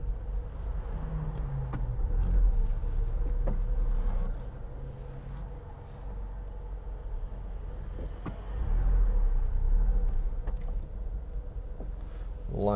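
From inside a 2004 Smart fortwo 0.7 City Passion on the move, a low engine and road drone swells and eases through gear changes, with no voices.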